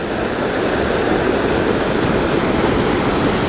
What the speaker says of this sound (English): Now that's a wall of water right there